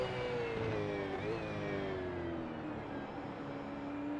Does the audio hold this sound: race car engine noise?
yes